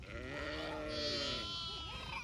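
Several sheep bleat together at a rural encampment in the evening after returning from grazing, their overlapping wavering cries steady and fairly close against a low background murmur.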